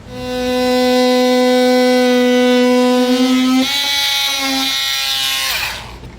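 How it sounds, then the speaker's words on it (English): An oscillating tool cuts plastic to fit a front-mount trailer hitch on a 2019 Chevrolet, a loud, high buzzing whine held steady for several seconds before its pitch wavers and drops near the end, then it stops. "I'm going to be using an oscillating tool just to get a nice clean line"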